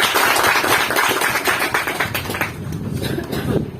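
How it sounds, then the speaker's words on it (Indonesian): A crowd at a campus closing ceremony applauds loudly and close, dense clapping that thins slightly toward the end, with no voices over it. "mari kita beri tepuk tangan yang meriah."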